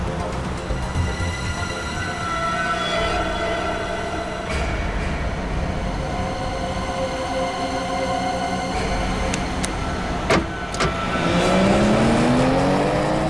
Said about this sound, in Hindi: स्लो चलाओ गाड़ी